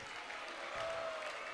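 Audience applause greeting a senior disciple arriving at a Hare Krishna initiation festival in Govardhan, a steady wash of clapping from a crowd with a faint tonal hum running through it.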